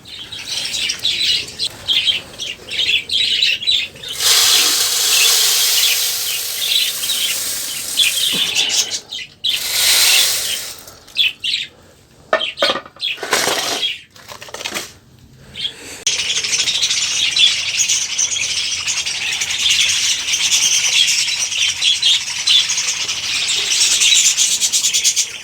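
Hungry pet budgie parrots in an aviary setup, a dense chatter of high chirps and squawks, with wing flutters and rubbing noises cutting in and out at close range.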